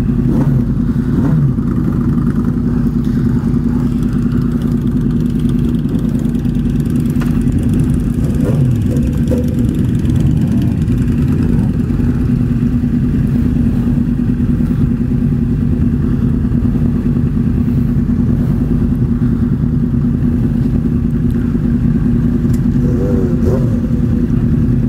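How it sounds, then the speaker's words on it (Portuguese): A Yamaha R1 motorcycle engine drones loudly and steadily at high speed, with a sustained hum and slight pitch shifts as it holds and revs, alone without talking. "Moto com força."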